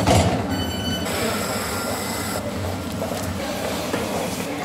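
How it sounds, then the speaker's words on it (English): A tram rolls through Wimbledon in London, a loud, steady rumble with high metallic wheel squeal and tones early on, heard nearby. "That's a tram. That's definitely a tram."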